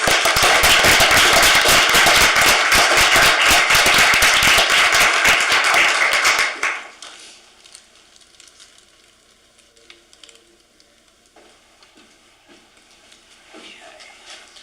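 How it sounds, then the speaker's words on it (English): An audience at a Midvale city council meeting breaks into loud, dense applause that holds steady for about six seconds, then cuts off abruptly into a quiet room with a few faint stray sounds. "Let's do another round of applause"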